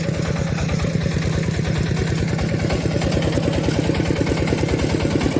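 A walk-behind tractor with a rotary tiller cutting soil while weeding between pumpkin rows, a loud, close, steady engine chug with rapid rhythmic clatter that runs the whole time.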